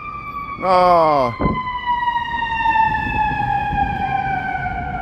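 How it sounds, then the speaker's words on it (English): Fire truck sirens wail on a Chicago street with steady, slowly falling tones held loud throughout. A short exclamation and some passing street noise sit underneath. "These sirens."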